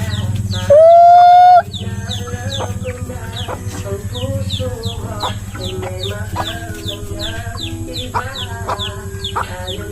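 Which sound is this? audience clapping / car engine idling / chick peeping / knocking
chick peeping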